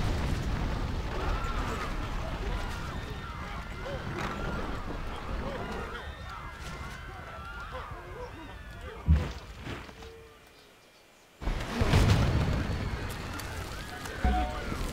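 Naval cannon fire and explosions in Civilization 5 Gods & Kings, with rumbling booms under continuous talking, a sharp burst midway and a heavy blast after a brief lull.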